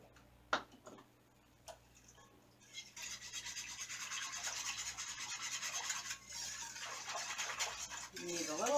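A whisk scraping and rattling steadily in a bowl while making Swedish and Italian meatballs, a fast close rhythmic clatter starting after a few quiet knocks, with speech nearby.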